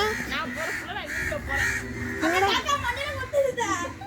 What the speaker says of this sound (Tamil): காக்கா புல்லாம் வந்துருச்சுடா, படையெடுத்துருச்சுடா.